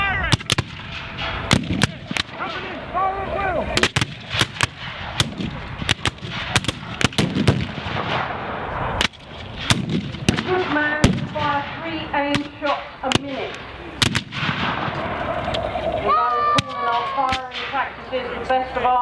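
An American Civil War battle reenactment rings with repeated sharp musket shots and heavier artillery booms, some close and loud, others distant and overlapping, while people shout and talk in the background.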